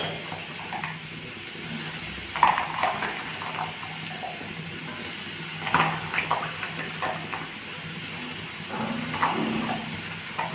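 Chopped bottle gourd tipped into a pan of browned potatoes, giving a soft, steady sizzle with a few louder stirring scrapes and clatters spread across it, heard alone and close.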